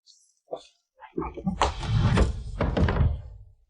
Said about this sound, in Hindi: सीसी, दरवाजा खोलो ना।